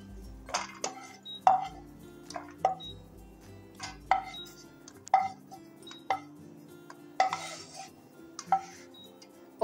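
Almonds roasted in ghee are scooped out of the pan with a utensil, giving a scattered series of light metallic clinks and taps at a moderate, close level.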